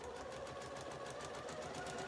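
A sewing machine runs continuously while stitching woven fabric, a close, quiet steady whir with a fast regular needle pulse.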